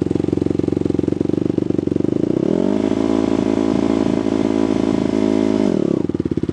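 A dirt bike engine revs near and loud: a buzzy, clattering motor note rises into a sustained high rev, holds it steadily for several seconds, then drops back.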